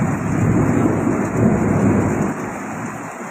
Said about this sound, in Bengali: আর যে পরিমাণ বজ্রধ্বনি